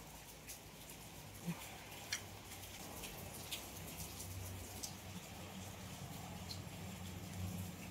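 Rain falls steadily outside in a courtyard, giving a faint, continuous patter with a few scattered drips close by.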